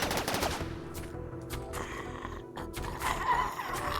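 Rapid gunfire bursts from a video game firefight ring out continuously and loudly, with dense overlapping shots and no pauses across the whole stretch.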